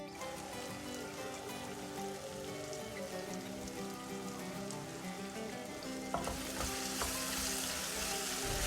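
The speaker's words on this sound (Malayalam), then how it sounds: "ഇഞ്ചി വെളുത്തുള്ളി പേസ്റ്റും ചേർത്തൊന്ന് നന്നായിട്ട് വഴറ്റിയതിന് ശേഷം നമുക്ക് അതിലേക്ക് പത്ത് പതിനഞ്ച് കാഷ്യനട്ട് ചേർത്ത് കൊടുക്കുക" Cashews sautéing with ginger garlic paste in a pan give a steady close sizzle and frying crackle with occasional stirring scrapes throughout, growing slightly brighter near the end.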